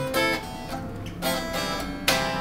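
An unplugged electric guitar with no amp is strummed in a few quick, thin, jangly strokes, quiet and close, each chord ringing briefly.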